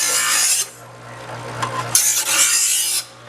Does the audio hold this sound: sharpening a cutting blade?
yes